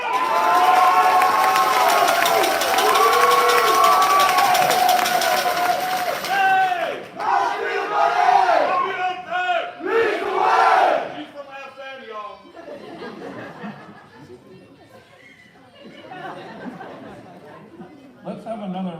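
At a fighter wing quarterly awards ceremony, a crowd cheers and shouts for company grade officer nominees, a loud mass of voices and chatter that swells, breaks into bursts of yelling, then thins toward quieter murmuring.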